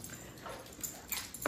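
A pet dog whimpers and yips softly in a home, short high whines coming in a few brief bursts, the last near the end, over low room noise.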